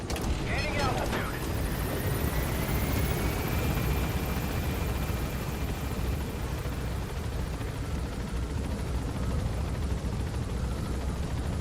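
A helicopter in the video game Metal Gear Solid V gains altitude, a steady loud rotor roar and whine filling the whole stretch after a brief clatter at the start.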